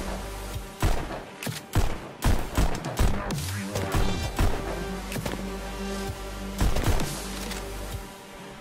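Rapid gunfire in the VR shooter Pistol Whip: dense bursts of punchy shots over a steady thumping music bed, loud and near.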